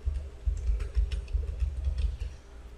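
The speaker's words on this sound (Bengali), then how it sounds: "সাবস্ক্রাইব এই কথাটি লিখে দিলাম" Rapid light clicking of keys on a computer keyboard, a quick irregular run of taps close by with a low background hum and no speech.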